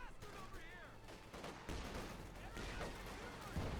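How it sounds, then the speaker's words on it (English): Artillery fire and scattered gunshots in the real-time strategy game Company of Heroes 2, a steady battlefield rumble of booms and shots beneath a commentator's voice. "All that artillery is definitely going to be a nuisance there for Stuve to deal with"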